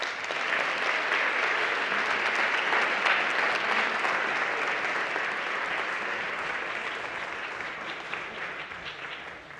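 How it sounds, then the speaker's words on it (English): A large audience at a healthy cities summit gives sustained applause for award winners, a dense even roar of clapping that tapers off gradually toward the end. "one more big round of applause for all of them"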